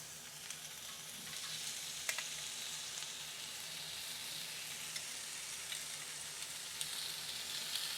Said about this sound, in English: Then onto the griddle pan, carefully place your halloumi.